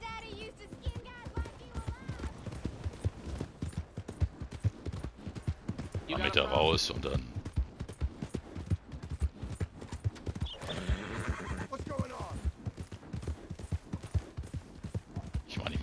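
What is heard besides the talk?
horse hooves and whinny riding in video game Red Dead Redemption 2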